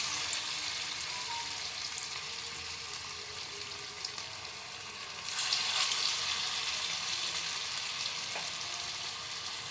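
Drumstick flower fritters frying in hot oil, giving a steady, close sizzle with a crackling hiss that swells louder midway as more fritters go in, with no talking.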